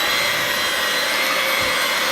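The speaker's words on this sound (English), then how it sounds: "now you're gonna mix it at a low speed." An electric hand mixer whirs steadily on its lowest speed, beating peppermint candy cheesecake batter; a continuous, fairly loud motor drone with no voices.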